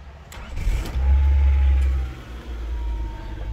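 A Honda EK sedan engine cranks briefly, catches and settles into a low idle, close and fairly loud with no one speaking.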